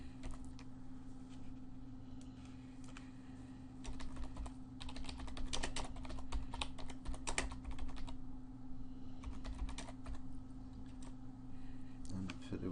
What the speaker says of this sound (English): let's just type in